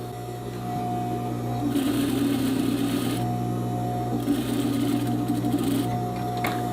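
A sewing machine runs a rolled handkerchief hem on the edge of a skirt ruffle. Two steady bursts of fast stitching rise over a constant motor hum, with a short pause between them and no talking.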